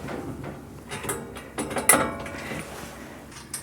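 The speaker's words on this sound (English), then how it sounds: "We might need to get another wrench out here to tighten these down" Adjustable wrench working bolts with washers onto steel angle while building a barn, heard as faint, scattered metallic clicks and ratcheting clinks with one sharper clank, no talking.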